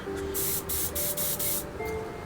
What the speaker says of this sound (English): So this one really sprays a lot of spray.